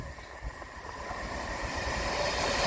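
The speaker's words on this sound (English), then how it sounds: "Now passing through is going to be the 1317 Avanti West Coast service to London Euston with a 390 Pendolino." A Class 390 Pendolino electric train running the Avanti West Coast service to London Euston passes through Liverpool South Parkway station on the West Coast Main Line, a steady rumbling roar that slowly swells as it nears.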